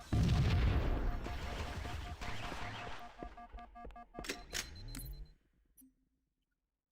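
A grenade blows up in a video game with a loud, broad boom at the start, followed by several sharp cracks and popping bursts as the debris settles. The sound trails into near silence over the last couple of seconds.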